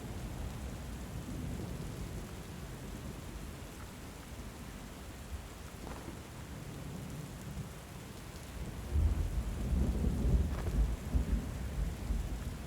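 Storm in the Book of Hours video game: steady rain patter under low rolling thunder, with a louder, deeper rumble building near the end, no speech.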